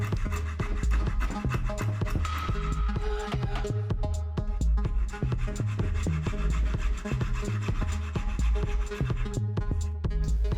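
Notches are cut into wood for an octagonal wood-and-resin flower pot, with close, steady back-and-forth rasping and sawing strokes repeating in a quick rhythm.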